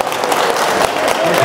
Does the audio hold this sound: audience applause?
yes